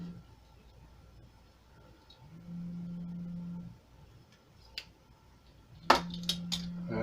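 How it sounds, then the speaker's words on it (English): A mobile phone buzzing on vibrate against a surface in a workshop where a 1970 Harley Davidson Leggero carburetor is being cleaned, with three low steady hums of a second or so each, fairly faint, alongside scattered metallic clinks of tools. "I didn't take it off of vibrate, so it's over there vibrating"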